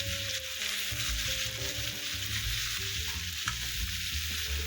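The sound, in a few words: bitter gourd frying in iron wok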